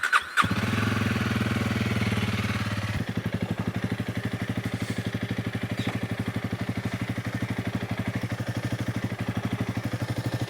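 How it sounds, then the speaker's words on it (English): Honda CRF300L motorcycle engine fires up with a short cranking burst, then settles into a steady, evenly pulsing idle, close and loud, running alone without talk. "the motorcycle run for about 5 minutes so the oil thins out"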